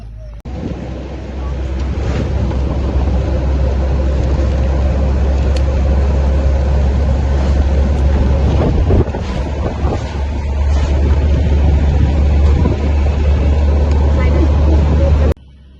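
Steady low rumble of a moving car with wind buffeting throughout, a continuous roaring hiss.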